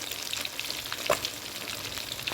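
Fish deep-frying in hot oil, a dense, steady crackling sizzle with a brief louder pop midway, close up and without speech.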